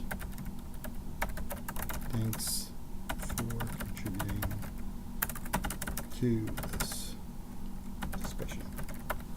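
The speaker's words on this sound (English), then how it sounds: "I just start typing in a comment." Someone types a comment on a computer keyboard, a fast run of close, crisp key clicks that continues while someone speaks over it.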